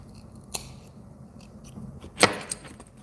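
Small scissors snipping material butts while tying a fly, giving two or three sharp, crisp cuts close by against a quiet background.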